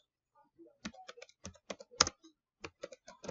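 Code for a Bootstrap form being typed on a computer keyboard: irregular bursts of crisp, close keystrokes with short pauses between them, and no voices.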